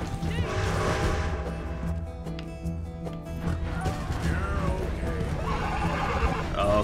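A horse in Red Dead Redemption 2, running low on stamina, whinnies loudly up close amid clopping hooves and a crash, with a steady musical backing underneath.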